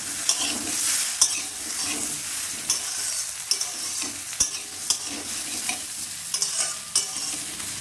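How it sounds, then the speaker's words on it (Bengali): Vegetables for Bengali bitter gourd shukto sizzling and frying in a pan while being stirred, with steady hiss and repeated sharp scraping clacks of the spatula close by, no talk. "2 মিনিট পর নেড়ে দিলাম।"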